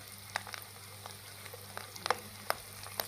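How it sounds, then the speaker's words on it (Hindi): Gola kababs frying in hot oil, a steady low sizzle with scattered sharper pops and crackles spread across the stretch, fairly quiet and without any voices. "ये देखें माशाल्लाह हमारा ऑयल गर्म हो गया और ये मैं गोला कबाब इसमें डाल रहा हूँ।"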